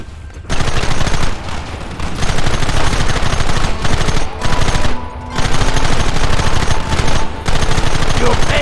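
Loud, sustained bursts of video game gunfire in Red Dead Redemption, rapid shots rattling in long volleys separated by brief pauses, dense and close throughout.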